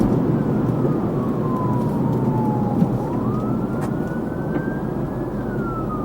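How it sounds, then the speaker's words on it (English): A police car siren wails slowly up and down in pitch over heavy road and traffic rumble, with fire trucks nearby, loud and continuous as the vehicles pass. "I'm just sort of looking at the cop car behind me because he's coming with sirens"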